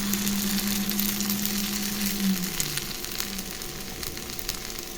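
Bread paniyaram batter made from soaked bread and semolina is poured into a hot paniyaram pan, giving a steady, even sizzle that holds at a constant level throughout, with a low hum underneath.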